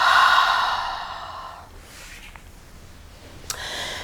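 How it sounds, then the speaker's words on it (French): A deep exhale through the mouth during a yoga breathing exercise: one long, close, breathy release that fades after about a second and a half, followed by quieter breath noise. "Prenez une profonde inspiration. Soufflez par la bouche."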